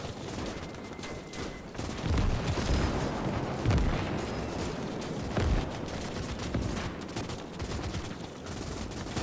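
A machine gun fires from a tower in the World War II game Call to Arms - Gates of Hell, dense crackling bursts amid a constant din of battlefield gunfire and distant booms.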